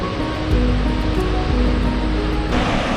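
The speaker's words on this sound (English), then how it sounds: "This is the Haue wave, a human-made weir that they set up so that you could surf on the waves" River water rushes over a human-made weir on the Haue River, forming a surfable standing wave: a steady, dense roar of churning water, loud and close, with no break or rhythm.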